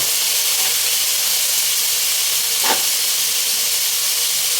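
Onion and garlic sautéing together in a hot pan, a steady loud sizzle and hiss that runs unbroken, with one brief sharper crackle partway through and no voices.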